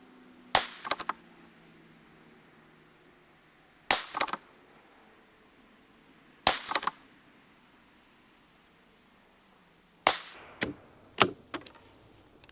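Ruger Precision Rimfire rifle firing 17 HMR 17-grain rounds outdoors: five sharp, cracking shots spaced several seconds apart, the last two coming close together, each with a brief echo and no talking.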